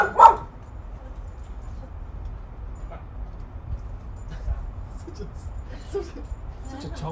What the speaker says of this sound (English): Such a chunky little dog